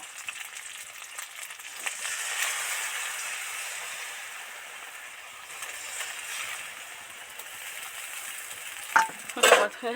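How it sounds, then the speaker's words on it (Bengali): Spiced liquid paste for Bengali niramish potol posto hits hot oil in a pan and sizzles softly and steadily while being stirred, then sharp scraping clinks of the spoon against the pan close out. "এবার যে লিকুইড মশলাটা বানালাম এটা এর মধ্যে ছেড়ে দেব।"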